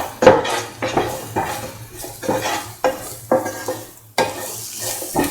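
Okra and potato are stirred in a pan, with a series of sharp spatula scrapes and knocks against the metal falling roughly every half second over a soft background sizzle.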